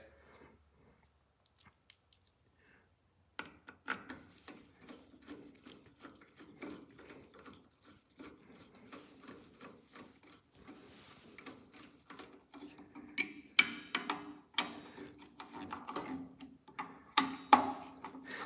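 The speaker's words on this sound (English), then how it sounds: "So the next one we're going to put in, we're going to use just a regular socket." A ratchet with a regular socket clicks on a Kohler M18 carburetor during a Cub Cadet carburetor change; after quiet, rapid ratcheting clicks start and grow louder and more forceful toward the end.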